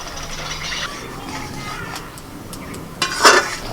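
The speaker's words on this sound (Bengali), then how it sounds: "ভাজা মোরলা মাছগুলো দিয়ে দিচ্ছি" Fried mola fish tipped into a pan of mustard, mango and turmeric curry and stirred with a utensil, giving soft scraping and a low sizzle, then a louder clatter of the spoon against the pan near the end.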